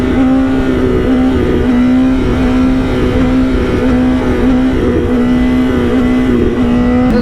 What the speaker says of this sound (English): This bike is hard to wheelie